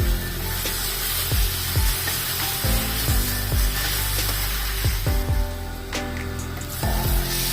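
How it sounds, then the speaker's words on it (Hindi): Ground masala with garam masala and black pepper fries in a pan for an omelette curry. It gives a steady close sizzle, and a spatula scrapes and stirs in repeated strokes throughout, with no talking. "और मसाला को फ्राई होने देंगे।"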